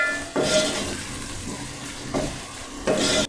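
Ginger, garlic and green chili paste gets stirred into vegetables frying in a pan, with a steady sizzle and a few short bursts of stirring scrapes.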